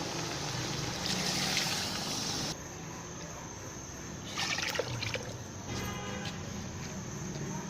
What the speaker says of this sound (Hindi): अब हम इसमें 4 लीटर पानी ऐड करेंगे।